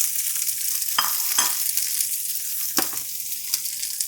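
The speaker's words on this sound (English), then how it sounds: "In my vegetables go." Vegetables dropped into a second hot pan with a little fat, giving a continuous bright sizzle with a few sharp clicks and spatters, close and fairly quiet.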